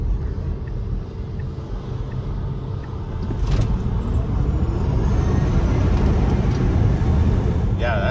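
A Tesla Model S Plaid, previously driven through water, accelerates hard with a steady rising electric whine and road rumble that swells midway and holds loud to the end.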